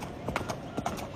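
Horses' hooves clip-clopping at a stable, a few soft, irregular hoof strikes at moderate distance over a low ambient background.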